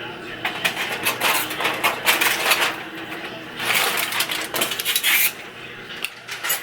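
Pot and metal utensils clatter and clink in a home kitchen while cooked rice is checked, with a run of close, irregular scraping and knocking that pauses briefly near the end.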